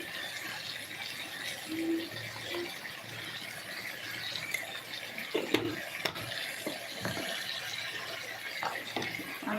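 Potatoes fry in a pan for aloo bhaji, giving a constant sizzling hiss broken by occasional sharper crackles and stirring knocks.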